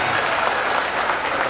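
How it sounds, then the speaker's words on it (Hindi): Loud, dense applause from a crowd at a Shiv Mahapuran religious discourse, continuous through the short stretch. "एक बार जोरदार ताली बजाएं।"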